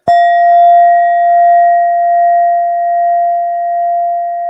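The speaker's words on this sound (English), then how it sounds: "And then I also use sound instruments, which is this beautiful brass Indian bowl with a beautiful Buddha in the" A brass Indian singing bowl with a Buddha in its centre is struck once, giving a clean metallic hit followed by a long, pure, steady ring that fades only slightly, heard alone.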